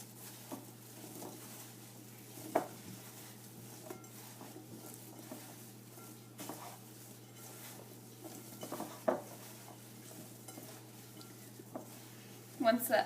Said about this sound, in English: We are going to mix it so the apples are thoroughly covered with the sugar mixture.